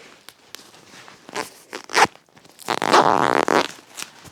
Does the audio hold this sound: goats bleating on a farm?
no